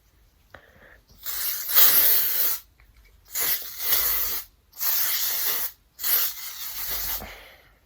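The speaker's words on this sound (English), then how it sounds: "I'm going to spray my hair with this texturizing spray. Just a spritz." Four bursts of hair texturizing spray hiss from an aerosol can, each a second or so long with short pauses between, close and fairly loud with no talking.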